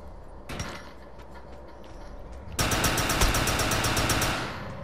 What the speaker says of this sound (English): I just got a new weapon. What is this? Assault rifle.